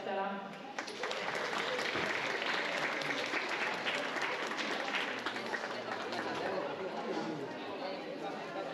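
Audience applause for the winners at a fin-swimming sprint competition prize ceremony, a steady dense wash of clapping that begins abruptly and carries on evenly, moderately distant in a large hall.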